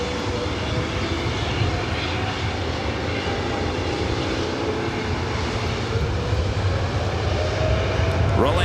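A steady, moderately loud engine roar fills the scene as an airliner bound for Warsaw rolls down runway 24 right at LAX for takeoff, sustained and unbroken without any speech.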